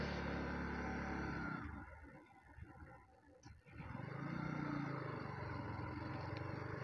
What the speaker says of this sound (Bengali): এক জায়গায় থাইমে আপনাদেরকে আমি এক্সস্ট সাউন্ডটা পুরোপুরি শুনাইতেছি